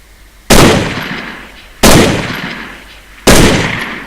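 Rifle fire during basic recruit training with 3 Commando, three loud, close single blasts spaced over a second apart, each ringing out into a long echoing decay.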